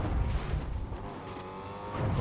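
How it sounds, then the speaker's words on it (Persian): Several cars driving by in a video game, engine whoosh and tire noise rising and fading close by, steady and moderately loud, no talk. "سه ماشین میاد."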